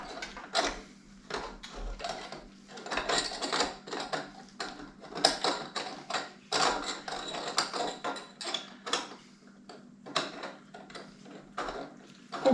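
Sausage stuffer forcing turkey sausage meat through a small tube, a series of irregular mechanical clicks, creaks and squelchy pushes repeating close by.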